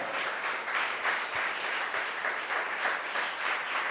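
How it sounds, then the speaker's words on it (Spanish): A church congregation applauds in praise during a sermon, a steady, fairly distant patter of many hands that swells slightly in waves and carries no voices. "Le damos un aplauso al Señor Jesús."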